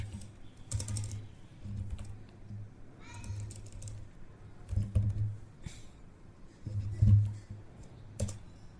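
Commands typed on a computer keyboard during a Windows 11 blue screen repair, with irregular clusters of close key clicks and taps and soft voices faintly in the background.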